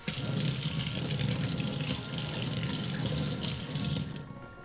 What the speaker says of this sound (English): rinse the measuring cell under the running water